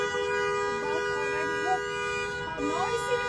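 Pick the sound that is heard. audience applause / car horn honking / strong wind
car horn honking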